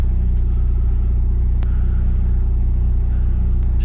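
A 1988 Jeep MJ truck engine idles steadily, a loud, even low rumble with a constant rhythmic pulse throughout.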